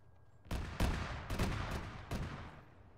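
Gunfire in a military video game: about five sharp, loud shots ring out in an irregular sequence over roughly two seconds, each trailing into a short echoing decay, with no voices.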